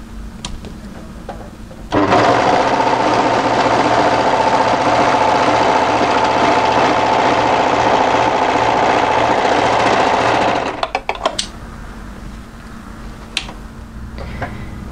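An overlocker serging the side seam of a wrap cardigan, a loud, fast, even motor whir that starts abruptly, runs steadily for about eight seconds, then stops, followed by a few clicks.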